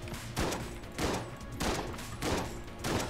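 Rapid bursts of gunfire from the video game Enter the Gungeon, loud and dense, coming in repeated volleys about every half second with no talk over them.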